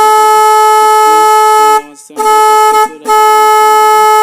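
A motorcycle horn being tested during a home repair gives three loud, sustained electric honks, each separated by a brief silent gap, with no talking.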